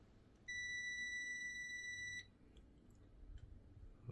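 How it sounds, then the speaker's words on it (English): A multimeter's continuity test gives a single clear, high, steady electronic beep lasting about two seconds, close by and quiet, while an Erasmart R1390/L1800 A3 DTF printer motherboard fuse is checked, followed by faint handling clicks. "if it gives me a beeping sound"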